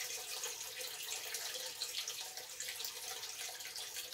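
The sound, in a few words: water pouring into a sump pit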